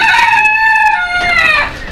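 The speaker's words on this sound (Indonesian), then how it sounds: "Ini ayam-ayam pisen." Pheasants, including silver and golden varieties and their young, call from an aviary at a peafowl breeding farm. A single loud, close, drawn-out harmonic call fades off near the end.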